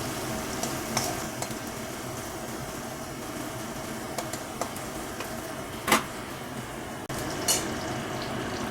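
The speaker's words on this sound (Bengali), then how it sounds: "এবার উচ্ছেগুলোকে একটু আমি ভালো করে একটু ভেজে নেব" Bitter gourd pieces fry gently in oil in a wok with a steady close sizzle. A spatula scrapes and stirs now and then, with a few sharper clinks against the pan.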